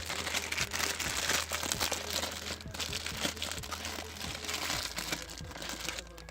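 Continuous close crinkling and rustling of a plastic wrapper, busy and crackly, with small crunching handling noises throughout.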